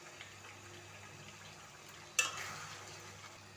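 Broiler chicken sizzles softly in a pan as it is stirred and fried, with a steady low crackle and a brief louder scrape midway before the gentle frying continues.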